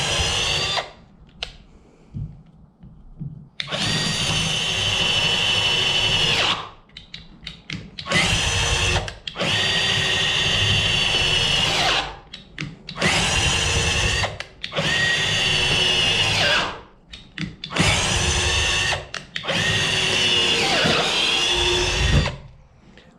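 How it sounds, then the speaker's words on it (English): A SKIL 20V cordless drill boring a half-inch hole, whining loudly in repeated bursts of several seconds each, separated by short pauses, with the motor straining under load. "I wouldn't try drilling 1/2 inch holes with this thing"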